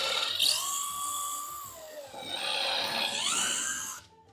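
A power drill whines as it pre-drills holes in wood for screws, a continuous high-pitched bore that dips in pitch partway, then cuts off near the end, with no talking over it.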